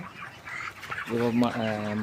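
Hens cluck in short, stacked calls close by, growing louder in the second half after a brief murmur of background noise.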